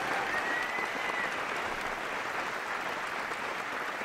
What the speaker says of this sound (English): Let's have a round of applause for Remo.